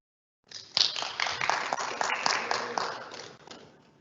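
Audience applause at an MA Industrial Design diploma ceremony: a sustained round of clapping from many hands that starts abruptly, holds steady for about three seconds at moderate loudness, then tapers off.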